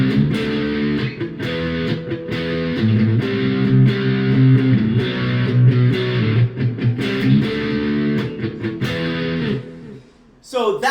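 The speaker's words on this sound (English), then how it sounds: "I was just playing some movable power chords" Loud distorted electric guitar power chords ring out, changing every second or so, before a brief pause and a short pitch slide at the end.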